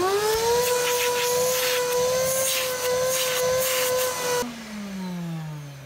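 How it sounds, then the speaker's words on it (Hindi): A wet vacuum cleaner runs steadily to suck water out of the carpet of a Ford Figo Aspire. The motor whines loud and close, then its pitch drops near the end as it winds down. "और हो गया आपका वैक्यूम रेडी पानी सक्शन करने के लिए"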